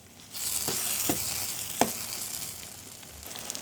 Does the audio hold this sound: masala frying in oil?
yes